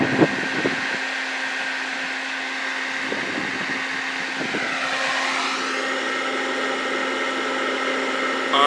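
A homemade indirect evaporative air cooler runs with a second pump and its fan, giving a steady broadband whoosh of pushed air over a constant mechanical hum. A brief rising sweep comes partway through, and no one speaks.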